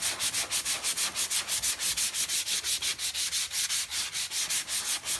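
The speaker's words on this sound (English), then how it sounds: "So when I'm sanding it here, it still is kind of like getting rid of a little bit" Rapid rhythmic sanding strokes rasp back and forth over a fabric chair painted with mineral paint, close and steady, about five strokes per second with no voices.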